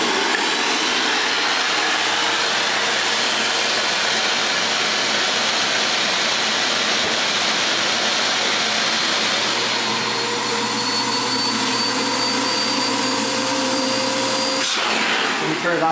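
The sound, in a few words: shop vac blower inflating a HoverMatt HoverJack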